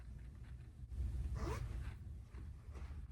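A crotch zipper on a cheap Spider-Man costume is pulled in a short rasping run, with a few softer scraping and rustling sounds of fabric around it, close and fairly quiet.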